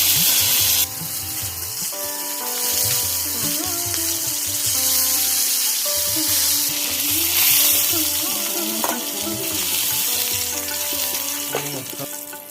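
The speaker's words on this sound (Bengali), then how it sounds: "সর্ষের তেল দিয়ে চিংড়ি মাছটা ভেজে নিই।" Prawns frying in hot mustard oil in a pan, giving a steady loud sizzle throughout with occasional clinks and stirring scrapes, and no talking.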